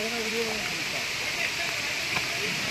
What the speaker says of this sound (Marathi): इकडे मस्त पाऊस पडतोय